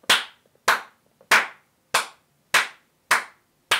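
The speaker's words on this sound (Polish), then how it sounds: "to teraz oklaski dla Chiefa." One person claps slowly after a Grand Theft Auto Online race: seven sharp, close hand claps spaced evenly at about half-second intervals, with silence between them and no speech.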